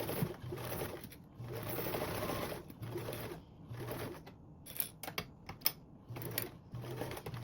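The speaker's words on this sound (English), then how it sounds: "Now basting along this edge with a 1/8 seam allowance" A sewing machine basts along the edge of a duffle bag panel with a 1/8 inch seam allowance. It runs in several bursts of steady stitching, with short pauses and small handling clicks between runs.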